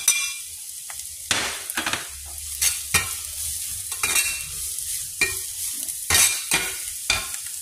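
Fried rice with smoked meat and dried shrimp being stir-fried gives a loud close sizzle broken by repeated scraping and tossing strokes in an uneven rhythm, with no talk.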